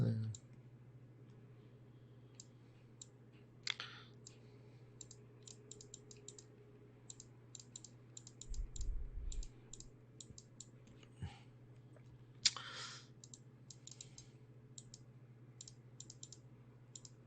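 Computer keyboard typing during a live stock-market broadcast: quick, irregular clicks in short bursts over a steady low hum, with faint voices and a few louder thumps in between.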